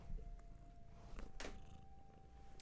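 A cat purrs on a person's lap indoors, a soft, steady low rumble that runs the whole time, quiet and close, with faint rustling now and then.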